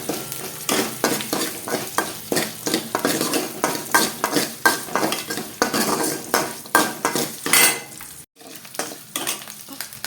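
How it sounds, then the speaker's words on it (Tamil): Garlic sautés in hot oil in a pan for a Tamil kuzhambu, with a spatula scraping and stirring in quick, rhythmic strokes over a steady sizzle. There is a brief pause near the end, then the stirring resumes. "பூண்டு நல்லா வணங்கிட்டு இருக்குது."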